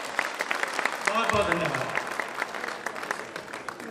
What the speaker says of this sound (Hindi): ताली एक बार जोर से।